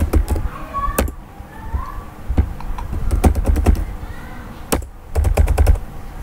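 Typing on a computer keyboard, with quick bursts of sharp key clicks separated by short pauses over a faint room hum.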